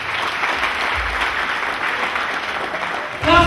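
Congregation at a church service applauds in a sustained, even wash of clapping from a crowd, with a voice starting to speak at the very end.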